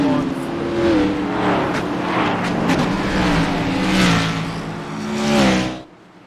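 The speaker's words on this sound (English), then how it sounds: "Joseph Lester takes off, and we are back green flag racing at Atlanta Motor Speedway" Race cars in the iRacing sim roll back to green-flag racing at Atlanta Motor Speedway, a loud droning pack of engines rising and falling in pitch as they rev and sweep past, then cutting off near the end.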